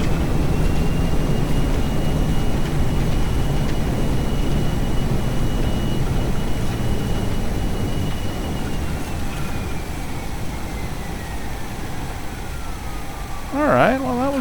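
IXEG 737-300 thrust reversers roaring on landing in a flight simulator game, a loud sustained engine rush with a high whine slowly falling in pitch, and a brief tonal warble near the end.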